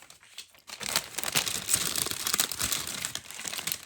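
Plastic gift packaging holding an instruction sheet and basic toolkit crinkles loudly and continuously close by, steady rustling crackle after a brief quiet start, with no talk.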